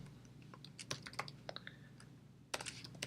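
Rapid, irregular keystrokes on a computer keyboard, close and fairly quiet, clustering in short bursts with a sharper flurry near the end, over a steady low hum.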